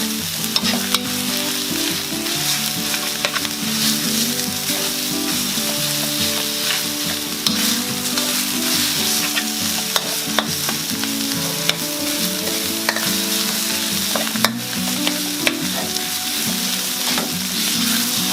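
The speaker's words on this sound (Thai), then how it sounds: "อันนี้เอาหมูสับลงไปเลย" Minced pork sizzling and frying in a pan for northern Thai nam prik ong, a dense, steady crackle with occasional stirring scrapes, loud and close throughout with no talk.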